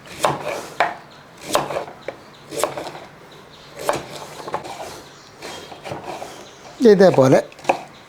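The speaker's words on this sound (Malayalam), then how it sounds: "ഇനി ഇത് നമുക്കൊന്ന് അരിഞ്ഞെടുക്കാം" A knife chops cleaned raw plantain and elephant yam on a board with a series of crisp, irregular thuds. A burst of quicker cutting comes near the end, and a voice speaks briefly between the chops.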